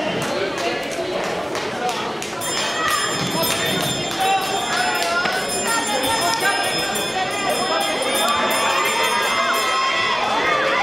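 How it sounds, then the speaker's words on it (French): A bell rings out for the last lap of a 1000m track race at an athletics meeting in Quimper, its repeated clanging close and continuous over a loud, cheering, shouting crowd, with an announcer speaking throughout. "Voilà, c'est la cloche, donc vous savez bien, c'est maintenant que la différence va se faire donc, pour les 400 derniers mètres"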